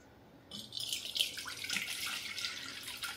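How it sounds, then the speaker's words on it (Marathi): Buttermilk is poured off freshly churned butter in a short, soft, trickling splash that starts abruptly after a moment of quiet and fades slowly. "खालचं ताक आहे ते सगळं मी ओतून घेणार आहे"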